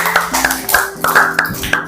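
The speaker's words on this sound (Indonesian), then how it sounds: "Tepuk tangan buat kelompok" Classroom applause for a student group, a handful of people clapping close by in a quick, slightly uneven rhythm of roughly a dozen claps.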